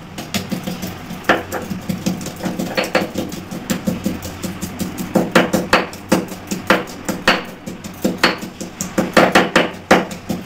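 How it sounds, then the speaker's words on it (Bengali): Ginger crushed by hand for a yogurt dish, pounded in a quick irregular series of sharp close thuds and knocks that keep on without pause. "আদা থেতো করে নেব"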